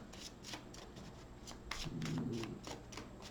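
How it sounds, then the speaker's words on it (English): A deck of tarot cards is shuffled close by, a steady papery riffling and flicking of cards with brief louder bursts, no voices. "Off the top of the deck, 2 more shuffles."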